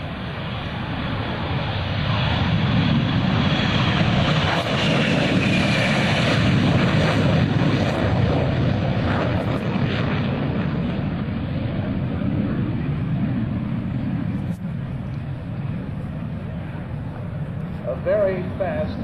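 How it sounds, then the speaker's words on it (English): A Lockheed F-104 Starfighter jet at the 2004 Cold Lake International Air Show gives a loud, sustained roar that rises, lingers and slowly eases off. "Ladies and gentlemen, the F-104 Starfighter."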